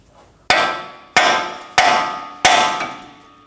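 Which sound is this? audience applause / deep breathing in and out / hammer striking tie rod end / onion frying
hammer striking tie rod end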